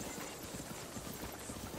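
A horse galloping in Zelda Breath of the Wild, quick rhythmic hoof clops over a soft noisy backdrop, faint and steady across a short stretch.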